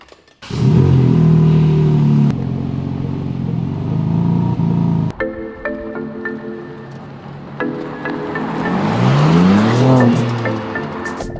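A rebuilt, crash-damaged BMW M3 Competition driving off, its engine revving loud and close through several gear changes, with a rising, falling drone and shifting pitch as it accelerates.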